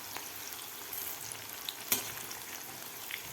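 Vegetable pakoras frying in hot oil while being turned, a steady close crackling sizzle with a few soft scraping and clinking touches, no talking.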